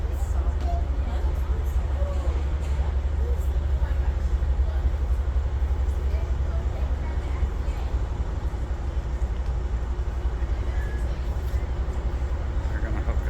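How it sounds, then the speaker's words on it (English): An Auto Train shunting locomotive moves slowly up to couple onto the car carriers, giving a steady loud low rumble with faint clanks throughout and no talk. "So this is the train that moves the cars around. So they're pulling up to this."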